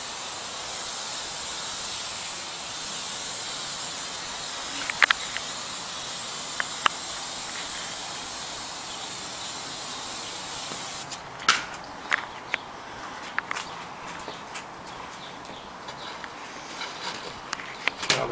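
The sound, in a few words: garden hose spraying water on a juniper bonsai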